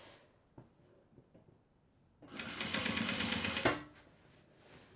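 A sewing machine stitches the lining of a zipper handbag in one steady burst of about a second and a half, loud and close, between quieter handling sounds.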